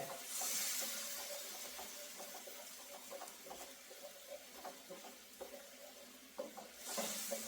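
Faint bubbling and hissing from a pan of boiling water, with soft irregular clinks and stirring sounds, close and quiet.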